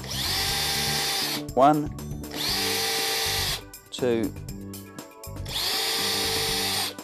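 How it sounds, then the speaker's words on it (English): A power drill bores holes into an oven housing appliance unit in three loud whining bursts, each spinning up and winding down, with a man counting aloud between them. "Then drilling a hole,"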